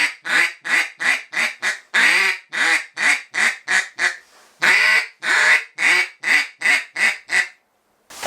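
Handmade deer hunting call blown in a rapid series of low, raspy, nasal grunts, about twenty close, loud bursts in steady rhythm with a few longer drawn notes, heard alone with no talk.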